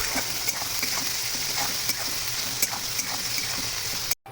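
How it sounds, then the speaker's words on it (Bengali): A bowlful of onions and salt frying in hot mustard oil, giving a steady, dense, close sizzle with faint crackles throughout, cut off briefly near the end. "তেলটা ভালো করে গরম হয়ে গেলে ওপর থেকেই দিয়ে দেবো এক বাটি ভর্তি পেঁয়াজ আর স্বাদ অনুযায়ী নুন"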